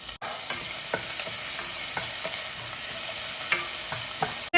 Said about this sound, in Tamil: ஒரு பெரிய வெங்காயத்தை கட் பண்ணி வச்சுருக்கேன் அதை இதோட சேர்த்துப்போம்